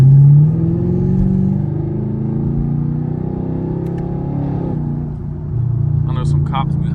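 Chevrolet Camaro SS cruising a highway at night, its steady low engine drone and road rumble filling the cabin with a brief rise in revs midway, while someone talks over it throughout.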